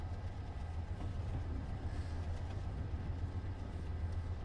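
A P32 locomotive runs in Train Simulator 2019, giving a steady, loud low rumble with a continuous mechanical drone that holds even throughout.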